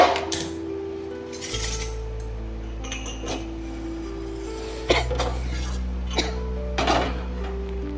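An iron tawa griddle is set onto a home stove with a sharp metallic clank. It sits among soft kitchen clinks and a steady low burner hum, with no talking.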